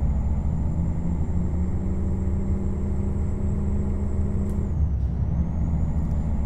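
Compression brakes on a truck in American Truck Simulator give a loud, steady engine rumble with a droning tone throughout. A brief hissing shift comes near the end, with no talking.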